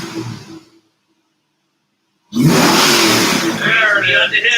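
A car engine revs hard and loud after a short silence, a sustained roaring throttle blip following a cold start, with voices talking before it.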